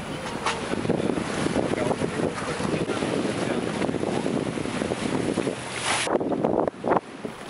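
A racing sailboat motoring with a fleet toward a regatta start line in a stiff breeze and building chop, loud roaring wind on the microphone mixed with engine drone and water rush, continuous and close.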